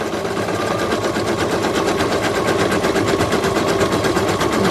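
An embroidery machine stitches felt for a mask, its needle hammering in a fast, steady mechanical rattle with a buzzing motor hum, loud, close and continuous throughout without speech.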